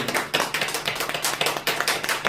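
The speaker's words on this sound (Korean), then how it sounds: "우리 하나님께 영광의 박수를" A church congregation applauds during a Sunday service in Gangneung, a brief burst of lively, fairly close clapping from many hands.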